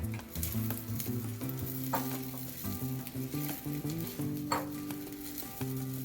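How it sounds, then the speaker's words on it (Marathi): Sabudana for khichdi frying in a pan, a loud continuous close sizzle with steady stirring scrapes and light clinks of the spoon against the pan, with no voices. "सर्व साबुदाणा मी इथं घालून घेतलेला आहे आता छान हलवून घ्यायचा"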